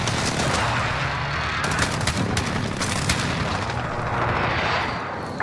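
An airstrike in Modern Warfare (2019) produces dense, rolling blasts and overlapping gunfire that form a loud, continuous barrage with sharper cracks mixed in.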